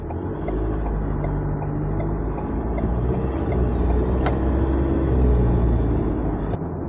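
A 2023 Ford Ranger XL single-cab 4x4 with the 2-litre bi-turbo diesel climbs a hill, heard from inside as a steady, low engine drone and road rumble with no talking.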